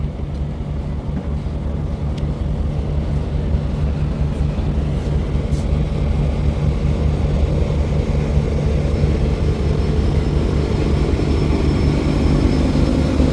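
A passenger launch on a river running at high speed, its engine giving a loud, steady low drone that holds evenly throughout without pause.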